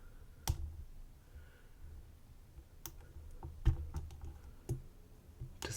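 A lock pick works inside a Vachette 7100 lock, giving faint, sparse clicks and ticks at irregular intervals over a quiet background.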